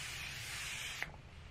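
A handheld face mist is sprayed onto skin as a steady, close, fine hiss that runs for about a second and then cuts off, followed by quiet handling sounds.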